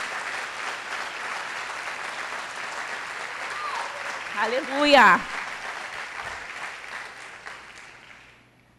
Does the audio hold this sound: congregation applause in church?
yes